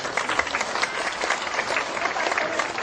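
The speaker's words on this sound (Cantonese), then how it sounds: "跟住咧又俾啲掌聲咧對新人鼓勵下佢哋" Sustained applause from a wedding audience cheering on the newly married couple, a dense even patter of many hands clapping throughout.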